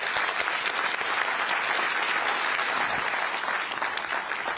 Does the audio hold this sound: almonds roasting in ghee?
no